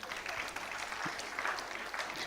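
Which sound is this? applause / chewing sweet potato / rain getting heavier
applause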